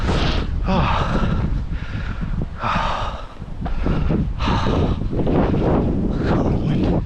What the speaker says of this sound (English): the wind is strong here as well